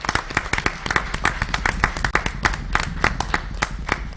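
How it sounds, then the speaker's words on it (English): Close, dense clapping from a board meeting audience, with steady sharp hand claps filling the room as a round of applause. "So let's give them another round of applause."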